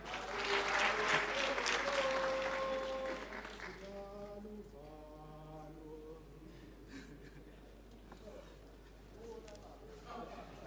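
Audience applause fills a men's parliament session hall, loud broadband clapping for a few seconds that thins and fades out, with some background voices mixed in.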